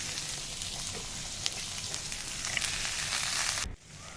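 Carrot and green chilli fry in oil for upma, a constant crackling sizzle at close range that holds steady and then drops off abruptly near the end.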